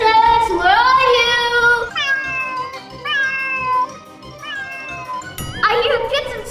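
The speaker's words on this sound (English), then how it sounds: "I hear kitten sounds." Kittens meow repeatedly in a series of high, drawn-out cries with short pauses between them, close and clear, with a brief louder burst near the end.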